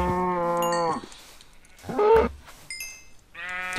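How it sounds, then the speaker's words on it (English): Blocky cow in a video game, set by a rare red sand biome, gives two drawn-out moos with a short bleat-like call between them, loud and close with no talking. "Cow."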